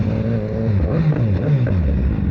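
BMW S1000R motorcycle engine revving while riding, a loud close rising and falling engine drone with shifting pitch across a short burst, no talking.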